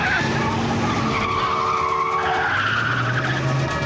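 A car skids on the road during a struggle inside it over a gun, in a 1990 police drama reenactment: loud, sustained tire squeals with shifting pitch sit over engine noise for the full stretch, close up and continuous.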